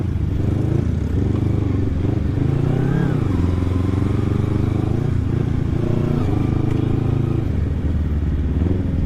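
A Kawasaki Ninja 250 carbureted motorcycle with an Akrapovic exhaust rumbles loud and close throughout, a steady throaty engine note with slight rises in revs around the middle.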